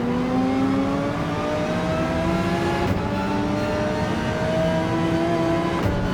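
A race car engine in the driving game Gran Turismo 7 drones steadily on the Trial Mountain circuit, its pitch gliding gradually as the car accelerates and shifts, loud and continuous with no one speaking.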